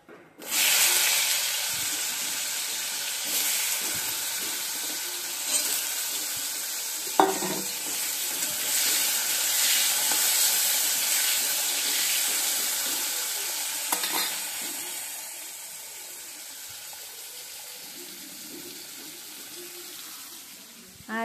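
Potatoes fry in a pan for a mung dal khichuri breakfast, giving a steady sizzle broken by occasional stirring scrapes and clinks, fairly close and continuous.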